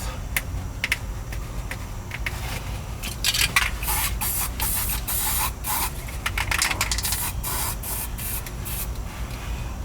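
An aerosol can spraying primer on a 2015 Kia Optima hisses in a series of short and longer bursts, close up and steady, with no talking.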